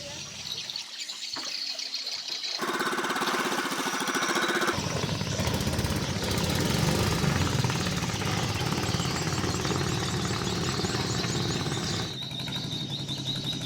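A longtail ketinting motorboat engine drones loudly and steadily with a rattling, chugging pulse. Rushing river water splashes alongside, and the engine revs up partway through.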